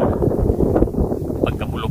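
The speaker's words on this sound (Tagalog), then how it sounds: "at medyo malakas talaga yung hangin" Strong wind blows across a Chinese cabbage field, buffeting the microphone with heavy low rumbling gusts, while a voice speaks over it.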